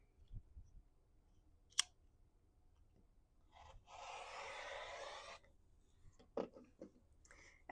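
Fabric scissors cut through a pant leg along the original hem in one continuous rasping snip that lasts over a second. Small clicks and handling noises come before and after in a quiet room.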